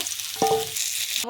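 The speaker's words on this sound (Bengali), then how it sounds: "আলুগুলো লাল লাল করে ভেজে নেব।" Steady close-up sizzling of potatoes frying in hot oil, with a brief scrape of stirring partway through.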